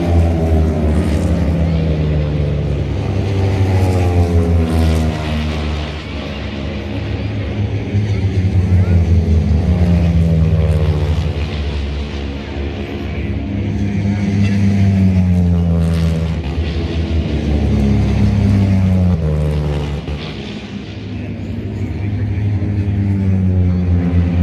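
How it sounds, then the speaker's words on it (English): Big-engined racing motorbikes pass at the North West 200 road race near Portrush, a loud, sustained engine drone with sweeping pitch changes rising and falling over the whole stretch, heard from the roadside under crowd noise. "I think it's a type of motorbikes. They sound like bigger engines"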